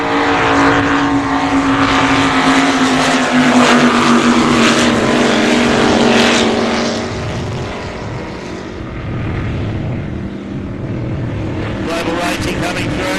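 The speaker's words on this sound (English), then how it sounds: "525 race engines have that deep rumble as they come through." Superboats with 525 race engines thunder past at a racing event in Geelong, Australia, a loud, deep, continuous roar that swells and shifts as the boats sweep by, with a commentator talking over the noise.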